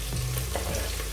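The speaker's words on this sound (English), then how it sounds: "The fish must be broken into pieces so that it will also fry" Broken pieces of fish fry with onion in a pot for garden egg stew, giving a steady close sizzle with faint stirring scrapes and no voices.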